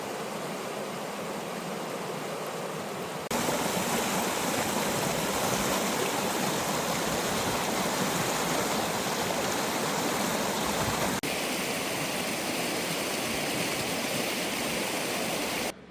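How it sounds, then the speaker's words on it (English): Jack Creek in the Central Oregon mountains rushes loudly and steadily as a close, broadband wash of flowing water, softer for the first few seconds and then full and constant. "This is Jack Creek."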